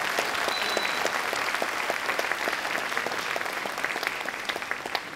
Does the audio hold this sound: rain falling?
no